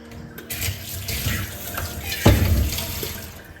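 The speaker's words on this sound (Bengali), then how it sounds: "এবার গরম জলটা দিয়ে এই যে কাপড়গুলো যেগুলো রান্নার কাজে ব্যবহার হয় সেগুলো সব ভিজিয়ে রাখবো" Hot water running into a basin of cold water and detergent, where kitchen cloths are set to soak; a steady splashing pour that swells louder near the middle, with no talk.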